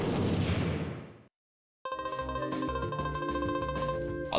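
Flame gun firing in the Custom Robo video game: a loud roaring burst that fades out over a second, then a short silence before bright, tonal game music starts.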